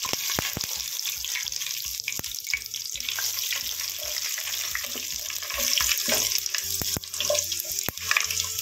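Bay leaf, fennel and kasuri methi frying in hot oil in a pan for vegetable pulao, a steady close sizzle with occasional stirring clinks and scrapes throughout.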